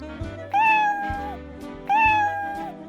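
A fluffy baby kitten meows twice in a row, each cry rising then sliding down, clear and close with a short pause between them.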